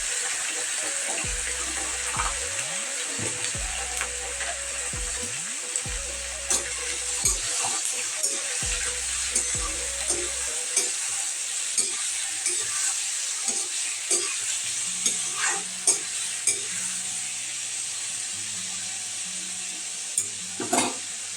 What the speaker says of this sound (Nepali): मैले चाहिँ मासु र फर्सी मिसाएर पकाउनु भएको छु